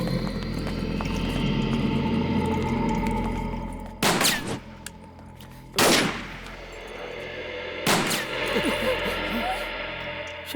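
Three sharp, loud gunshots in a film scene crack out a couple of seconds apart over a low rumbling background with faint clatter.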